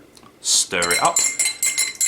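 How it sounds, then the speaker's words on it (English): A spoon clinks against glass while an Old Fashioned with a splash of Cointreau is stirred, giving a bright burst followed by a run of quick metallic taps and rattling ice, close and crisp. "Stir it up."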